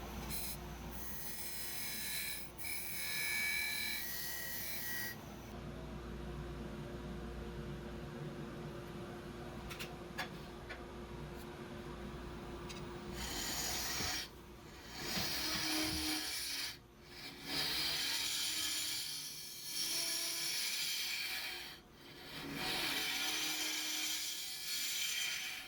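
Wooden urn being hollowed out on a lathe, a tool scraping and rasping inside the spinning wood in steady stretches that pause and resume, fairly faint with the motor humming underneath.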